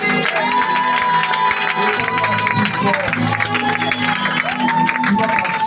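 A church congregation loudly acclaims Jesus with sustained cheering, clapping and shouting that fill the whole clip as a dense, continuous crowd roar, with voices mixed through it.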